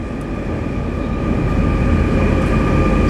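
An RER C Z20900 commuter train on the Paris line arriving at a station where metro line 14 connects: a steady, loud rumble with rail noise and a faint constant whine throughout, no voices.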